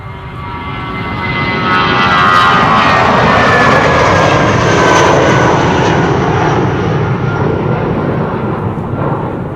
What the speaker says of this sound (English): Old school engine, so I'm thinking we're going to hear that whistle again once the airplane passes by.